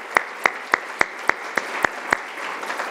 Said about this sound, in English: George Kilpatrick deserves a big round of applause for all his leadership